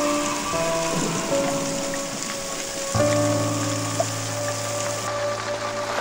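Heavy rain pours down steadily as a dense, continuous wash of noise, with a low engine-like hum running underneath and no voices.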